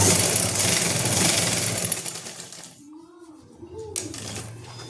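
A sewing machine runs steadily for a couple of seconds, stitching elastic onto a salwar, then the motor stops and someone talks over a quieter background.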